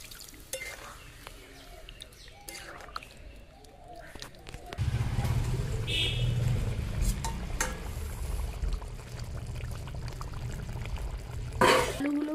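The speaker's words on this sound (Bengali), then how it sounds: "এবার আমি জল দিয়ে দেবো।" Water poured into potatoes frying with spices in a pan for aloo dum: a low rushing pour sets in midway and keeps up with bubbling, after quieter clinks and stirring.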